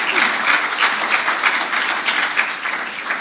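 Congregation clapping and applauding during a Sunday church worship service, a dense, steady wash of many hands sustained throughout without pause.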